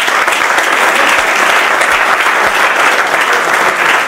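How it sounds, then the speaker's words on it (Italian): Loud, dense applause from an audience greeting two women champions at a CSI Supercoppa sports event, a steady wash of clapping filling the whole stretch with no break. "vi invito subito a fare un grandissimo applauso"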